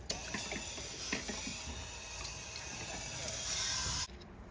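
Water sprays from an outlet on a camper in a steady, loud hiss that builds slightly, then cuts off abruptly near the end, with a few faint knocks underneath.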